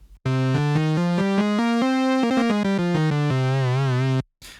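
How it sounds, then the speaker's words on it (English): A C natural minor scale played as a run of sustained, loud, close single notes stepping up and then back down, roughly fifteen tones, ending with a wavering held note and a brief silence. "So C natural minor sounds like this."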